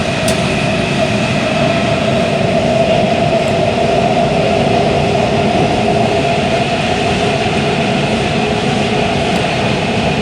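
A loud, constant rumble and roar of a Washington Metro Silver Line train moving through a tunnel, with a steady hum and occasional faint squeaks, no talking.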